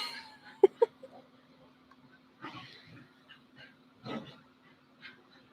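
A dog makes faint, high whimpers and short yips as it gets hyper, with soft scattered noises in a quiet room and a steady low hum underneath.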